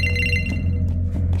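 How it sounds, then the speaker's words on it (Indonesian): A telephone rings inside the horror game The Bridge Curse: Road to Salvation, its bright electronic ring repeating steadily over a low droning background with no talk. "Ada telepon."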